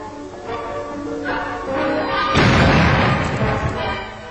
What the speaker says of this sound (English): an ordinary bomb exploding on contact